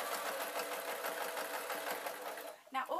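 A sewing machine stitching fabric horns in short careful runs, a close steady mechanical whir that stops near the end, followed by a brief voice.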